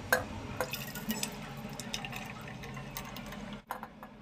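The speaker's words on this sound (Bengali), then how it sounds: "এবার এই পাত্রে আগে থেকে রেডি করে রাখা ডিম, দুধ ও গাজরের মিশ্রণটা ঢেলে দিব" A mixture of egg, milk and carrot for carrot pudding is poured into a pot set on a stand in a pressure cooker, a faint, steady liquid trickle with small splashes and a soft knock near the end.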